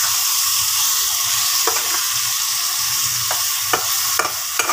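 Small kachki fish fry in hot oil in a pan with onion stalks and black cumin, giving a steady, dense sizzle broken by a few sharp clicks and scrapes as the pan is stirred.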